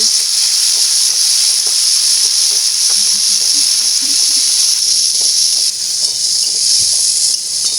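Loud, constant sizzling hiss of moth beans frying in hot oil, with small crackles and occasional stirring knocks throughout.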